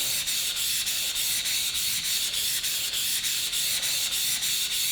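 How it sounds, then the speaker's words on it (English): A wood chisel is rubbed back and forth on a coarse 1000-grit sharpening stone to flatten it, giving a steady, rhythmic gritty scraping of repeated strokes, close and fairly quiet. "Now this stone and this chisel may take a while to flatten."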